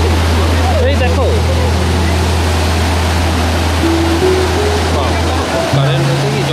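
A strong river current in Dooars, West Bengal, near the Bhutan hills, roars as loud, continuous rushing water close by, with a low steady hum and brief voices mixed in.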